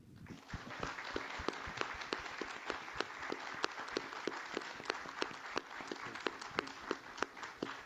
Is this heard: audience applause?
yes